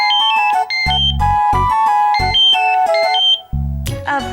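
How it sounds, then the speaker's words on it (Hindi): A phone plays a melodic electronic ringtone indoors, with bright stepping notes and heavy thumping bass pulses repeating loudly for several seconds, and no talking over it. "अब प्रेम, जरा फोन देख लीजिए ना, मेरे हाथ में बेसन लगा है ना।"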